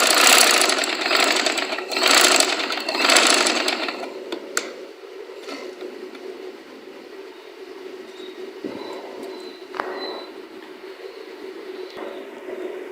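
A sewing machine runs in fast, loud bursts for the first few seconds while stitching a double seam down the side of trousers, then stops, leaving a low hum and small clicks.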